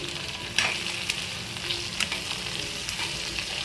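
Broad beans fry in a pan with a steady, close crackling sizzle, broken now and then by a few sharper pops and stirring clicks, with no voices.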